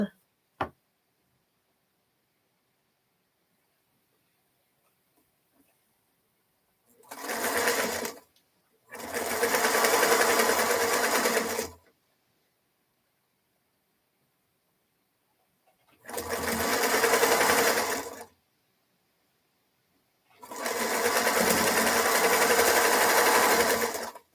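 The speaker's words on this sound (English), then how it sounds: "I'll stick them together and sew them right quick." A sewing machine stitches fabric pieces together in four bursts of steady whirring, two short and two longer, separated by silent pauses, close and loud.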